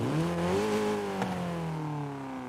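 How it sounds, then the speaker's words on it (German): A 1974 Honda Civic RS engine idles steadily, its pitch rising then easing as it revs up and settles back, heard close and alone without any talk. "wir hören uns mal den Motor an"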